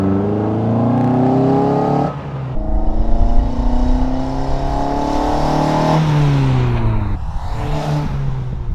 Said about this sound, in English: It still has that throaty ITB sound that was honestly drowned out with the old exhaust.